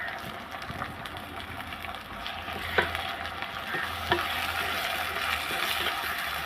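Shallots, curry leaves and green chilli with rock salt sautéing in hot oil, a continuous close sizzle with occasional sharper spatula knocks against the pan, no voices.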